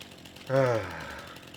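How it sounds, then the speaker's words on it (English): A single short mechanical burst from a chainsaw in a farming survival roleplay game, rising sharply then fading over about half a second, fairly loud against a low background hum. "Chainsaw."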